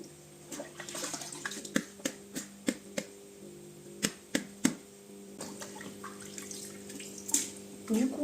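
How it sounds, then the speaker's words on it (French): Horse grooming brushes, including a horsehair brush, are washed under running water, with a steady tap stream and a series of sharp knocks and taps of the brushes against the basin at a fairly regular pace. "je vais laver quelques brosses avec la Magic Brush"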